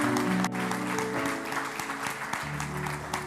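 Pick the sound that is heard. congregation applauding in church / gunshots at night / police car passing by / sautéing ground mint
congregation applauding in church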